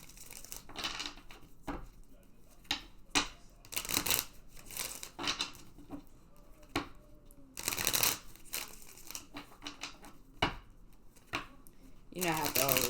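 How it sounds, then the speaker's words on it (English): Repeated crisp riffling and slapping of a tarot deck being shuffled, in bursts, with a voice talking intermittently underneath. "I have to always get my shuffle on"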